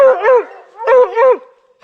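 Hunting dogs close by after a bear chase, giving loud drawn-out whining barks in two long pulsing bursts, with another bark starting just at the end.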